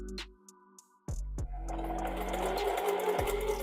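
A sewing machine stitching along guidelines on a stretched wig cap starts up after a few quiet clicks, then runs in a close, continuous whirring drone with a rapid needle patter.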